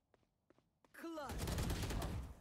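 A burst of gunfire in a Counter-Strike-style shooter erupts after a few soft footsteps, a loud sustained volley of rapid shots that fills the rest of the moment.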